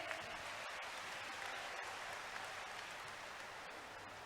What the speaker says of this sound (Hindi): जोरदार तालियों के साथ उनका स्वागत करेंगे।